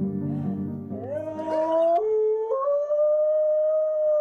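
Two dogs howl to each other over an online video call in a long, rising, wavering howl that carries on for several seconds, with no talking.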